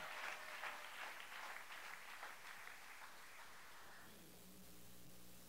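A church congregation applauding, a steady wash of clapping that fades out toward the end, leaving faint hum.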